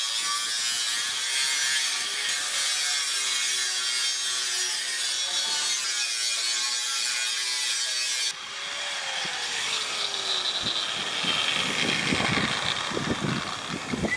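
Stainless steel sheet with a satin finish being cut for an RC Colorado snorkel, a steady harsh rasping and grinding that runs close and loud without a break, its tone shifting partway through.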